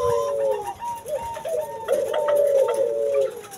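Pet doves in a small breeding cage coo in soft, repeated rounded phrases, fairly close and steady for a few seconds with no talk.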